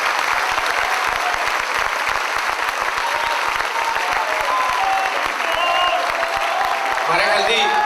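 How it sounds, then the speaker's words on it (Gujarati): A large audience at a Gujarati song and poetry gathering breaks into loud, dense applause that stays steady for several seconds, with voices rising near the end. "ખૂબ જોરદાર તાળીઓ"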